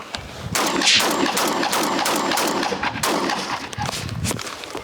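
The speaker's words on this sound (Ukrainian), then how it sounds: "Пацани, спробуйте постріляти." Rapid bursts of shotgun fire crack out one after another, loud and close, with echoing reports and no talking.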